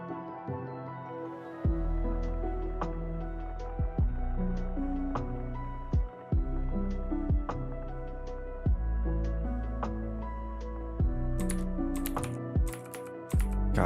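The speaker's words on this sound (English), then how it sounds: "the double clicking is getting... It's too much, I can't handle it" Rapid computer clicking, taken to be a mouse double-clicking, sounds during level editing in Unreal Engine 5. The sharp, close taps recur in quick irregular bursts over a background tone, with no talking.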